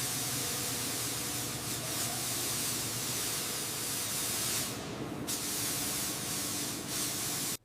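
A steady, close spray-paint hiss lays a second coat on a monster truck during a restoration, running continuously with a brief dip midway before cutting off abruptly at the end, with no voices.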